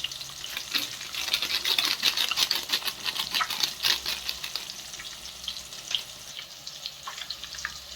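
Eggs frying in oil with garam masala, cumin and chili powder, a close, busy crackling sizzle with rapid popping spatters that pulse irregularly throughout.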